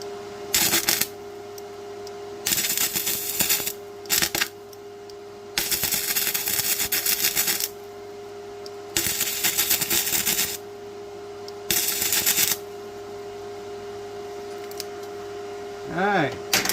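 Vevor MIG-130 welder burning a bead through paint on a cut steel edge, crackling and spattering in several loud bursts of one to two seconds each, separated by short pauses, over a steady hum.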